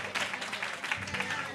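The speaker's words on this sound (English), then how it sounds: "Clap it up one more time for the Community Development Corporation" Audience at a community meeting applauding the Community Development Corporation, a steady wash of many hands clapping at moderate level, with voices mixed in underneath.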